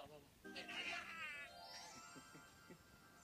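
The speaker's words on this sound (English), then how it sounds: "The meow." An anime cat meows once, a short bright cry heard close, with people talking softly over and after it.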